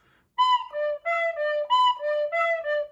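Solo tin whistle playing the first two measures of the Kerry Polka, about eight distinct notes in an even, bouncy rhythm, moving down and back up, close and clean with no other sound.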